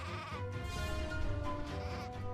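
A sheep in the crafting game Craft the World bleats in a short, nasal, wavering cry lasting a couple of seconds, close and clear over a faint game backdrop.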